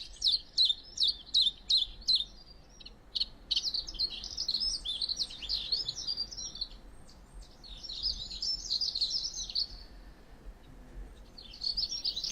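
Small insectivorous passerine birds chirping, first a rapid series of evenly spaced high tweets, then near-continuous twittering calls close by, stopping briefly and resuming at the end over quiet background.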